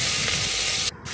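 Carrots, tomato and green chillies fry in a hot pan with a loud, hissing sizzle that cuts out abruptly near the end before briefly resuming.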